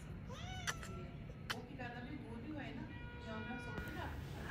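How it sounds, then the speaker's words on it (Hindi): An upset cat meows repeatedly at close range, several rising, strained cries spread over a few seconds against steady background noise, with a person talking nearby. "यहाँ पे एक बिल्ली के साथ गुफ्तगू शुनीद हो रही थी और वो बिल्ली परेशान थी बेचारी हमें देख के"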